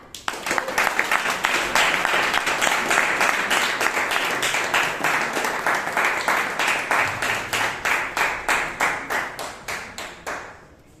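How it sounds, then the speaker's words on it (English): Thunderous applause from the audience at a Toastmasters club meeting in Bangalore, dense clapping swelling quickly and sustained, then thinning into distinct individual claps toward the end before stopping. "Give a thunderous round of applause to Toastmaster Shashank"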